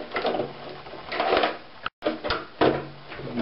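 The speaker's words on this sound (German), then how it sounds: "Jetzt wird die Maschine in die zwei Schlitze hier links und rechts eingesetzt." A Saeco coffee maker is slid into the two slots of its housing, making close plastic-on-metal scraping and sliding noises, a brief break, then another firm shove and knock.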